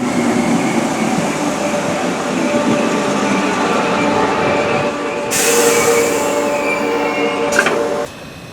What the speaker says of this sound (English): our train should be arriving now to take us to Bromborough